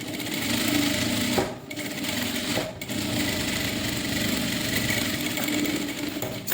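A sewing machine runs a line of stitching along the edge of a blouse front piece, a steady mechanical whirr that pauses briefly twice and then carries on, close and fairly loud.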